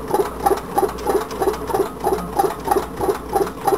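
A homemade tin can Stirling engine runs with a steady, quick mechanical ticking, about three beats per second, close and fairly soft, alone without talk.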